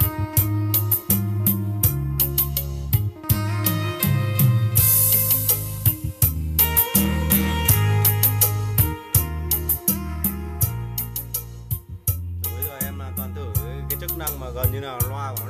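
Loud, dense music plays continuously through a Japanese mini hi-fi speaker system turned up near maximum, with a steady bassline and rapid rhythmic beats filling the room, no voices over it.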